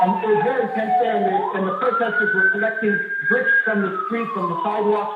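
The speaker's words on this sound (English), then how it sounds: "As you can hear also, there's an ambulance in the background." An emergency siren wails with a rising and falling tone in the background of a street during tense clashes in Ukraine, heard steadily beneath a reporter's continuous speech.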